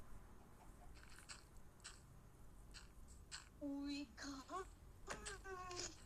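A few short clucks and squawks from a Minecraft chicken, faint and brief, under quiet background noise and speech.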